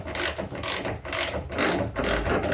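A ratchet wrench working loose the first bolt on a car, a steady run of close, loud, rapid clicking strokes repeating in bursts with no talk.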